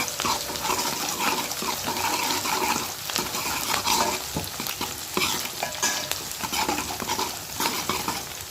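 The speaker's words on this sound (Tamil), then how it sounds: "இப்போ வெங்காயம் நல்லா வதங்கிட்டு" Chopped onions sauté in a pan for a fish curry, giving a steady, dense sizzle with repeated scraping stir strokes throughout. The frying is close and continuous, with no talk over it.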